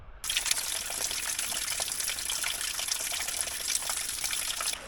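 Water from a natural mountain spring pours and gushes steadily and close, a dense unbroken rush starting abruptly and holding at even loudness throughout.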